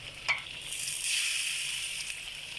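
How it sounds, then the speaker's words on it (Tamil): Pineapple curry sizzles and bubbles in a pan after water is poured over chili powder and stirred in, a loud steady fry with a spoon scraping through it. "கொஞ்சம் தண்ணி அதில் ஊற்றி நல்லா கலந்துருங்க"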